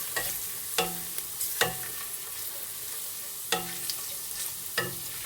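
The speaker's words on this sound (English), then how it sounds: "This is the wagar, I guess. Give that a stir. Just let that cook for a second or two." Wagar, the tempering for kadhi, sizzles steadily in a hot pan while a spoon stirs it. Several sharp clinks of the utensil against the pan rise above the constant frying hiss.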